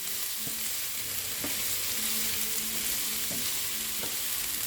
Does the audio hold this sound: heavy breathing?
no